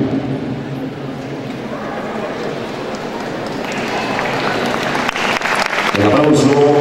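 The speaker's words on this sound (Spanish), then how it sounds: "El aplauso para Fabián Ricardo Corredor Sánchez" Crowd applause at a sports awards ceremony in Paipa, Boyacá builds gradually and grows louder toward the end, a dense patter of many hands clapping in a large room.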